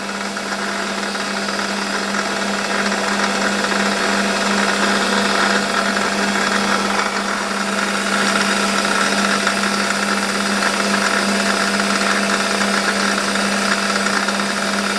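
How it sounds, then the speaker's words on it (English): A metal lathe running at full speed: a steady mechanical hum with a constant low drone and a bright, high whine, running evenly and loud throughout with no voices. "we'll have the lathe running flat out for this"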